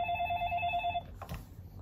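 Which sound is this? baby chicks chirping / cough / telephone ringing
telephone ringing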